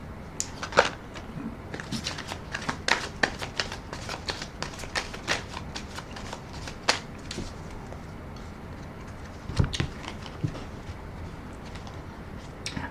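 A deck of tarot cards being shuffled, a run of crisp papery flicks and taps with louder bursts near the start and again later.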